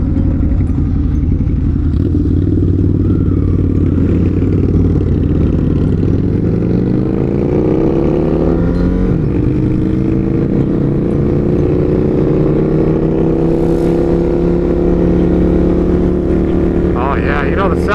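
Ducati Hypermotard 950 RVE motorcycle engine riding and revving, a loud continuous drone with pitch rising and falling as the bike accelerates, heavy wind buffeting on the microphone.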